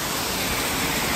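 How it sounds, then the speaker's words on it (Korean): A waterfall in the Yeomiji Botanical Garden produces a loud, steady broadband rush of falling water, continuous and unbroken, with no voices. "여기 폭포 같은 게 막 있으니까"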